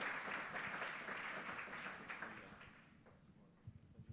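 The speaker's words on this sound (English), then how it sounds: "Perhaps like to give our panelists a round of applause" An audience at a programmatic advertising panel applauds the panelists, a soft, distant wash of clapping that fades over a few seconds, with a few stray claps and murmurs at the end.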